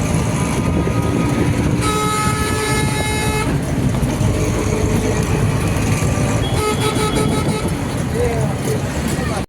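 A train at Diva railway station, with loud continuous rumble and rail noise throughout and a long sustained horn sounding partway, people talking nearby under the din.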